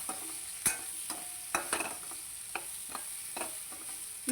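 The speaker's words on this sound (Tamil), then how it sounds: "இப்போ இதெல்லாம் சேர்த்து நம்ம நல்லா கலந்து விட்டுடலாம்." Brinjal and onion fry in a pan under a constant high sizzle, while a spatula scrapes and knocks through them in a string of irregular strokes, close and clear, with no speech.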